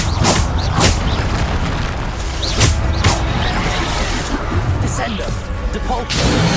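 Spell impacts from the Descendo slam in Hogwarts Legacy, several loud booming hits and whooshes over roughly seven seconds, with a voice calling out over the continuous game noise.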